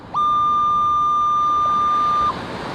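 Single sustained electronic target tone from a Minelab Manticore metal detector on a Hawaii beach, a loud steady pitch lasting about two seconds before cutting off, over quiet background.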